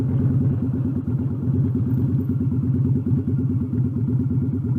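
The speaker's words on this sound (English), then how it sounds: "But if I go, see how slow that engine's going? Pop, pop, pop, pop, pop, pop, pop," A motorcycle engine lugging slowly in fourth gear on a night ride, with loud, even, low-pitched pops repeating steadily and close for the whole stretch, and no talking.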